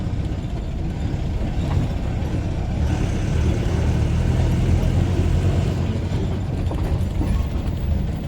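A truck bearing Andhra Pradesh Vizianagaram registration passes in the opposite direction on a road through town, its engine rumble swelling and then easing over the constant drone of traffic.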